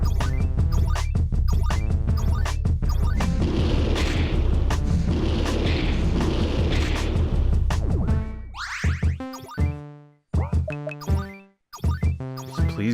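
A really big bomb goes off in the Symbiosis video game, a loud sustained rumbling explosion that roars for several seconds and then breaks into sharp ringing metallic blasts and tones.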